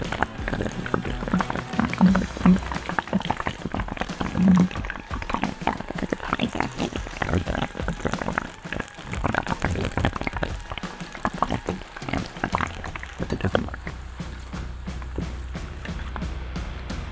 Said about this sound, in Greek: με γρήγορες κινήσεις βουτάμε και απευθείας μέσα στο λάδι.